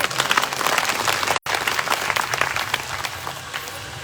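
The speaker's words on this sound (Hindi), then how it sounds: "आप सबके लिए भी एक बार जोरदार ताली हो जाए।" A crowd at an evening religious gathering breaks into loud, sustained applause, dense clapping running steadily with a brief cut partway through.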